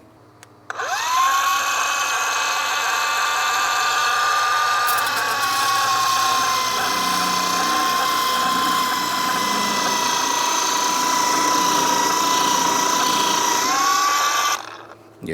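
An angle grinder runs steadily at about 3,000 RPM against a new grill, a loud, continuous high whine that holds for over ten seconds after spinning up, with a slight pitch drop midway and a winding down at the end.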